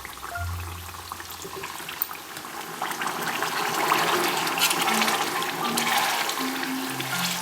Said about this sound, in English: add 5 tablespoons of vinegar